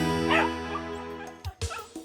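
Three-week-old puppies from a litter of seven whimper and yip in a few short, close, high-pitched cries, ending in a couple of brief sharp yelps.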